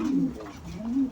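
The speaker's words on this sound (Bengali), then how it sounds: "আর এটা হচ্ছে আমার বাসার আর্মি লাইনের নর কবুতর এবং সুল্লি গলা একটা মাদি কবুতর" A pair of domestic pigeons, an army-line male and a female, coo at close range, two low throaty warbling coos in a brief moment.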